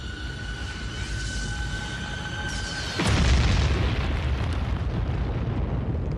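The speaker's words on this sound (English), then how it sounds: "A falling rock in the shape of an asteroid or comet slammed into Central Australia." An asteroid or comet slamming into Central Australia, rendered as a sudden deep boom that cuts in over a tense ambient bed and rolls on as a heavy, sustained rumble.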